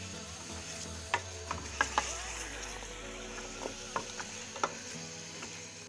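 Mixed vegetables with peas being stirred in a pan, heard as faint, scattered clinks and taps of a spoon over a quiet, steady background hiss.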